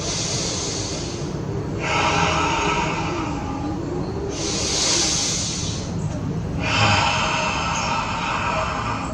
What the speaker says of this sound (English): Breathe in as much as you can, and breathe out all the air.